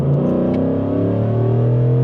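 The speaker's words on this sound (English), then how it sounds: "My tires are spinning that entire time." A truck engine revs loud and close in sixth gear while the tires spin, a steady droning roar that rises slowly in pitch.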